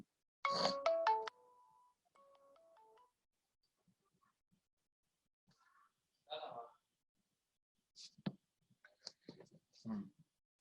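A phone ringtone plays a short bright melodic burst near the start, followed by faint scattered beeps and clicks over a quiet background.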